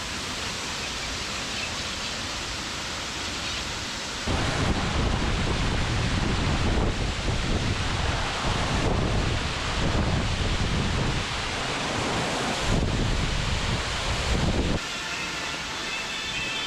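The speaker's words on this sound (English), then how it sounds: "the waterfall." Steady, dense rushing water fills the clip, a broad continuous roar like a nearby waterfall, with slight surges in loudness partway through.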